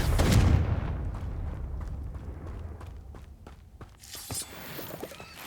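Confringo fire-blast spell in Hogwarts Legacy, a single heavy explosive boom that opens the clip and fades into a rumbling tail, followed by scattered crackles and thuds and a brief flare of noise near the end.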